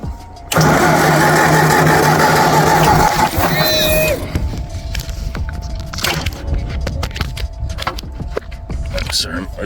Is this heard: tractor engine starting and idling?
yes